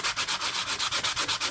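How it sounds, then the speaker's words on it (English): A metal ring made from a 1970 Finnish 1 markka coin is sanded by hand with sandpaper. The close, rhythmic scratchy rubbing comes in quick even strokes, about eight per second, with no other sound. "I found me sandpaper."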